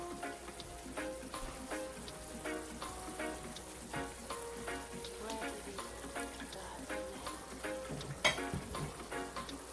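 Oil crackles and sizzles in a pan while ackee is being cooked for a Jamaican dinner, a steady close frying hiss with scattered pops and light stirring clinks, moderately quiet, with no talk.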